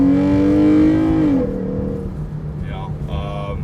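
A Jeep Grand Cherokee 3.6 engine fitted with a K&N 77 cold air intake holds a high, droning rev before dropping off sharply, leaving a lower steady idle hum, close and loud, with no one talking.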